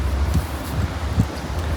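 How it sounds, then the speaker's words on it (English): Gusty wind blowing across an autumn allotment garden, a soft low rumble with brief louder buffets, fairly quiet and short. "We are starting and stopping because it is just so windy."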